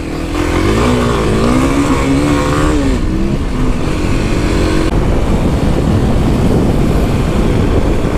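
Three small Kawasaki dual-sport bikes, a 2021 KLX300, a KLX300SM supermoto and a KLX250, drag race with a loud, sustained engine drone, rising revs and pitch sweeps as they accelerate together up close.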